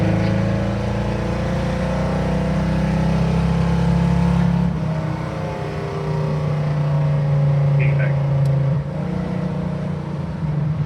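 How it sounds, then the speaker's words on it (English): A Ford Mustang with a carburettor problem roars as it is floored in second gear, a loud, steady low engine drone that drops in pitch partway through and holds on, no voices. "Second gear, just drop down to it, foot flat to the floor."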